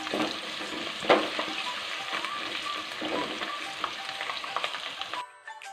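Ginger, garlic, green chilies and curry leaves fry in hot oil for a sweet pickle, giving a steady, close crackling sizzle with a few louder pops and spatters before a brief cut near the end.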